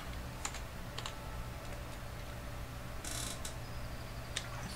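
A few scattered, light keystrokes enter a PIN on a computer keyboard while a prebuilt PC is being upgraded. The clicks are faint and irregular over a steady low hum of room and machine noise.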